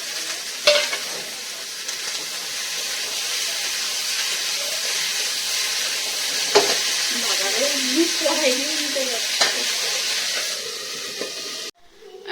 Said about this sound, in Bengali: একটু আলু ভাজবো